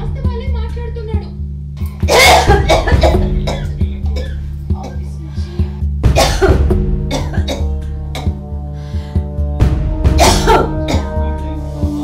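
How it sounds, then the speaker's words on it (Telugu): A woman coughs in a village home scene, with three or four harsh, rough bursts spread across the stretch. Background music and voices run underneath. "ఏం దగ్గుతానవే? దగ్గేదే దగ్గుతాన్నావు."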